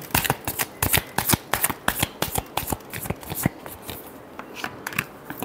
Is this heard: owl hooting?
no